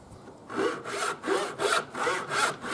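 Steady back-and-forth strokes of a hand saw cutting through wood, about five rhythmic rasping passes, close and clear with no talking.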